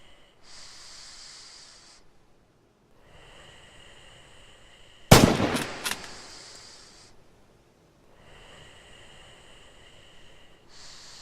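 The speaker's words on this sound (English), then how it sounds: "Practice dialing in the range and fire on the targets downrange." A rifle shot fired at range targets in the WWII shooter Red Orchestra 2, one sharp loud crack with a brief ringing tail, set between quiet stretches of pulsing ambient hiss.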